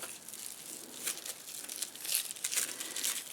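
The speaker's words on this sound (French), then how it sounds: "je vais prendre du raffia. Un bout comme ça. Et puis, je vais faire des sortes d'aller-retour" Raffia is handled and wrapped back and forth, giving soft, close crinkling and rustling in uneven bursts, faint and without talk.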